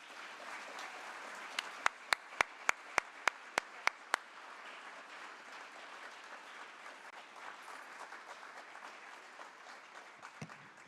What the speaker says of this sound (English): would you join me in a round of applause for our capital city